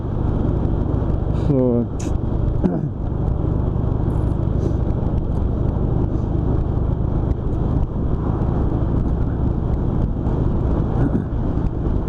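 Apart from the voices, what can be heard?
car driving with wind noise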